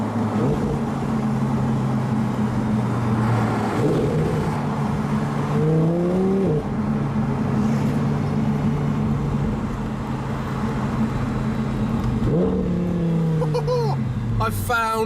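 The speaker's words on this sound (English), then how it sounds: "It's windows down, full throttle, on a Sunday hoon." A convertible car driven at full throttle with the windows down on a Sunday run: constant loud engine and wind roar with two rising revs through gear changes, a voice speaking over it.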